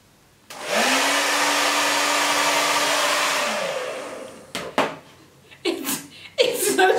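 A handheld hair dryer switches on and blows with a steady, loud whooshing roar for about three seconds, then winds down; brief bumps, handling noises and light laughter follow once it stops.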